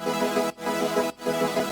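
Layered saw wave synths from an FL Studio track, a basic saw with extra ear-candy layers, play a dense sustained chord texture in steady pumping phrases, each broken by a brief sidechain-style dip, with no voices.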